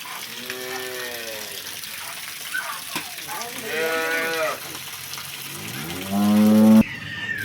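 Several cows moo in turn, long drawn-out lowing calls with a louder, closer moo near the end, over a steady outdoor background.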